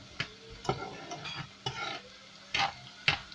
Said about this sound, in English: So here are a bunch of these zucchinis cooking.